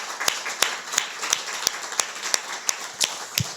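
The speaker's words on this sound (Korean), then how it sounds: "우리 박수 한번 치죠" Church congregation clapping in a steady, evenly spaced rhythm of sharp claps, filling the room without voices.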